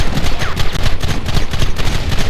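Dense, rapid Red Dead Redemption gunfire, a nonstop rattle of overlapping shots from several shooters, loud and close throughout.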